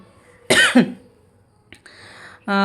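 A single harsh cough bursts out close by, followed by a short pause and some faint clattering noises.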